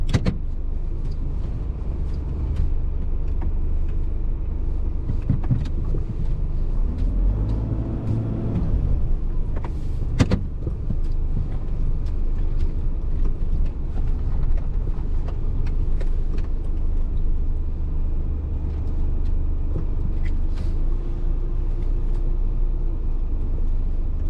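A car driving along a road near Fullerton in Trinidad, heard as a constant low interior rumble of engine and tyres with one sharp thump partway through.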